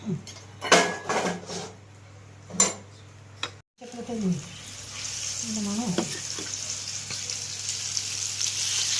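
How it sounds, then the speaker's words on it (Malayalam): Chicken liver coated in spice paste sizzles and fries in a pan, with loud bursts of clattering stirring and utensil scrapes early on, then a steady bright sizzle that continues to the end, with brief voices between. "ബാക്കിയും കൂടെ നമുക്ക് വറുത്തെടുത്തേക്കാം"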